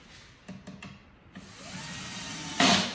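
A power drill drives 45 mm screws into MDF panels while a tool storage box is assembled, with a few short clicks before a steady whir that builds to a loud final burst as the screw seats.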